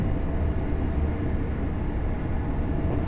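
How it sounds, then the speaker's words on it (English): An Elizabeth line train passes in the Train Sim World 5 railway simulator, a steady broadband rumble that holds evenly throughout without talk. "There's another Lizzie line train."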